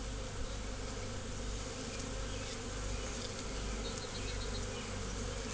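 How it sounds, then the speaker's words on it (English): A big clump of bees swarms in grass, making a dense, continuous buzz of many wings. The sound stays steady and moderately quiet from start to finish, with no talking. "I'm thinking that there's a big clump of bees here."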